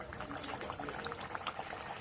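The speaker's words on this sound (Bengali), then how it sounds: "এইভাবে কচুরিগুলোকে আমি লাল লাল করে ভেজে নেব" Pea kachori deep-fry in hot white oil, a dense, even bubbling hiss with a couple of brief sharper spits near the start, fairly quiet and steady throughout, with no voices.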